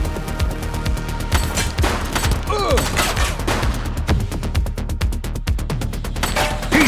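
Rapid bursts of gunfire crack out in dense volleys during a police shootout in the video game The Precinct, loud and close, with brief shouted voices mixed in.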